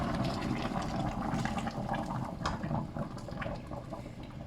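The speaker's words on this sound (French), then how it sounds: "On a 2 litres de fond de veau, on va recouvrir le tout avec." Two litres of veal stock poured into a cast-iron casserole over veal pieces for a blanquette, a steady continuous liquid pour with gurgling splashes, close and fairly loud throughout.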